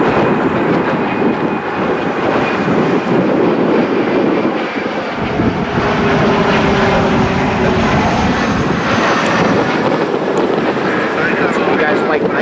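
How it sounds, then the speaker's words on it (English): A Delta CRJ jet airliner arrives at Cleveland airport as a loud, steady broadband roar, heavily buffeted by wind on the microphone, and a faint voice can be heard under the noise. "Endeavor 4997 Delta CRJ inbound from JFK, New York's John F."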